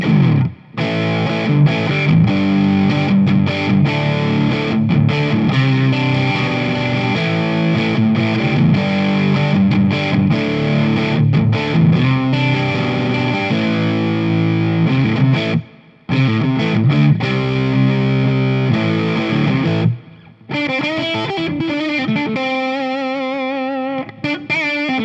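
An LTD TE-202 electric guitar on its middle pickup runs through overdrive, playing a steady, chunky distorted riff for about twenty seconds with a couple of brief stops and a ringing sustained ending.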